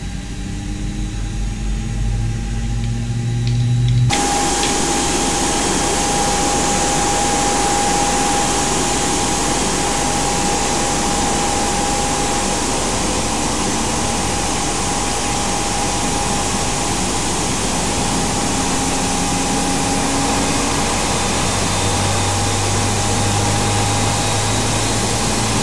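Aircraft engine spooling up at startup in the X-Plane flight simulator, a sudden rise into a loud, steady roar with a high whine, joining a lower hum already running, continuing unbroken.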